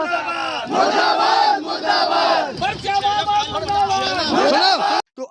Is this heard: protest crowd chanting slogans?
yes